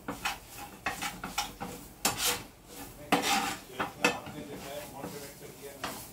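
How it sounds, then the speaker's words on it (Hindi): Boiled green onion stuffing for parathas roasted in a pan, with irregular scraping and rubbing strokes of a spoon against the metal and a faint sizzle, close and fairly quiet. "इसको हमको 2 से 3 मिनट भूनना होगा"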